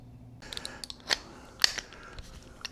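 Wrench clicking as rear shock bolts are torqued down on a Harley Road Glide motorcycle, sparse close metallic ratchet clicks and sharp ticks spaced irregularly over a quiet background.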